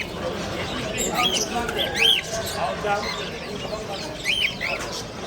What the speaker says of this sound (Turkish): Sultan papanları. Bunları gösterelim. Bunlar yavru.